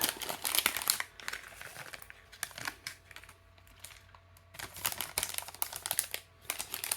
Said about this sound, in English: I grab my screws.